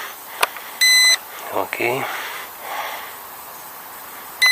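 A JJRC H32GH drone gives two short electronic beeps when armed to start recording, with a brief voice, breathy handling noise and a final beep later.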